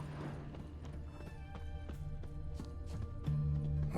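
Horse hooves clip-clop at a steady walking rhythm in The Witcher 3: Hearts of Stone, with an occasional whinny and a low musical drone underneath, close and moderately loud.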